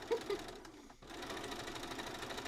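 A home sewing machine badly in need of a service runs at a steady pace, its rapid mechanical stitching chatter close and continuous after a brief pause near the start.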